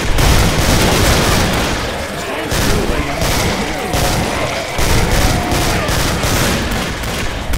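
An AA-12 automatic shotgun fires in the video game Killing Floor, with loud, rapid, continuous blasts and booming impacts piling into a dense, unbroken barrage that runs the whole stretch.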